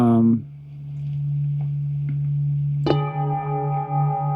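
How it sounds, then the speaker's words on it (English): A set of singing bowls rings in one octave, tuned to 432 Hz, with a long steady sustained hum and a new bright bowl strike entering midway, layered tones ringing on together. "so that's the normal sound, just 1 octave of this bowl set"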